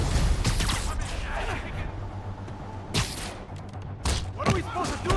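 Enemy gunfire erupts in Marvel's Spider-Man Remastered, sharp bursts of shots and thuds breaking out in clusters over game music and background action, with characters speaking in between.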